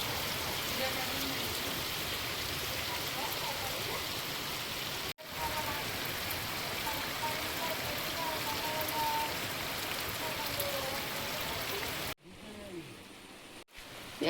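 Heavy, steady rain pours down in a dense hiss, with brief dropouts partway through and near the end.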